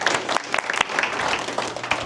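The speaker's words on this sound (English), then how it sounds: "All right, let's give these folks a round of applause." An audience applauds after a competition presentation, a crowd of hands clapping in a busy, uneven patter at moderate volume, steady from start to finish.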